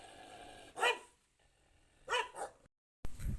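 A dog at a farmhouse gives a few barks, loud and close, with broad bursts near one second and another pair around two seconds, followed by a short silence and a further noisy burst.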